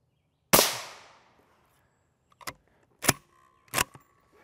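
Gunshot fired at an RMA Model 1118 Level IV armor plate, one sharp loud crack with a ringing decay, followed by three shorter sharp clicks and rattles, no talking.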